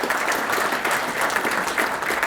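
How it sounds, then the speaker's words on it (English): Steady audience applause fills a city council chamber during a municipal annual update, a dense, even wash of many hands clapping at once, loud and close with no voices over it. "I think this deserves a round of applause in and of itself."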